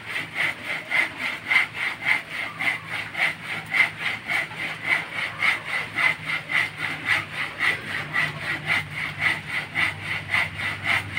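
A hand saw cutting firewood, with a steady back-and-forth rasping in an even, rapid rhythm that repeats about twice a second, close and loud, with no talking.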